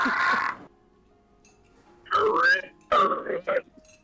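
A voice imitating a pig with grunting, snorting squeals in short bursts, separated by quiet pauses.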